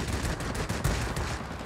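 Fighter plane guns fire in World of Warplanes as rapid, evenly spaced bursts of machine-gun rounds, a dense rattling stream at moderate loudness with no talk.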